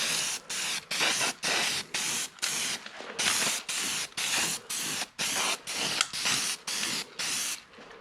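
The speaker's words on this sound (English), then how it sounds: "Okay, we're doing some weld through primer." Weld-through primer hisses from a spray can onto the battery tray and rear bumper brackets of a 1960 Volkswagen Beetle, in a close, steady series of about a dozen short spray bursts with brief gaps between them.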